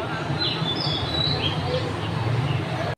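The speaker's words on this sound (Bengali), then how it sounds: "পাখির কিচিরমিচির আওয়াজ শুনতেছিলাম" Birds chirping outside a kitchen window, heard as faint, scattered high chirps over a steady low background hum, with no clear voices.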